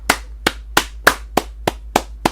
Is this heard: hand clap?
yes